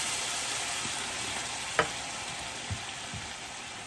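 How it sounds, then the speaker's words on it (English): Mushroom and parmesan risotto with stock bubbles and sizzles in a pan over medium heat, with a steady frying hiss and a few soft spoon scrapes as it is stirred. "Now you're just going to stir this around until absorbed."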